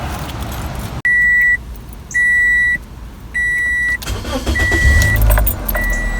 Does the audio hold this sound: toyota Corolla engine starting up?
yes